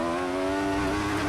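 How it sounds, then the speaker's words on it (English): Force India Formula 1 car engine in the F1 2014 racing game, a steady high-pitched whine with strong harmonic tones held at constant revs, loud and alone with no talk over it. "Let's have a look here and listen to the engine."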